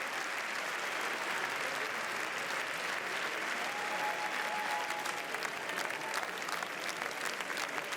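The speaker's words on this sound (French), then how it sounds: "De longs applaudissements très nourris à l'intérieur de la salle." Long, sustained applause fills a festival hall at Cannes, a steady, dense wash of many hands clapping at an even level throughout, with no voices on top.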